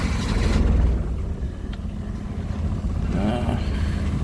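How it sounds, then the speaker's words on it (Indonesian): A road vehicle's engine, checked before a long trip, is blipped with the throttle, rising in a loud close roar, settling to a rumbling idle, then revving again near the end. "Kita kocok dulu gasnya di situ."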